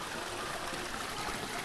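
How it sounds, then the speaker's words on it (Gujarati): A mountain stream on Girnar near Junagadh in the monsoon rushes steadily, a broad continuous wash of flowing water at low volume, with no voices over it. "કારણ કે લાઈવ ઝરણું આવે છે જો સામેથી"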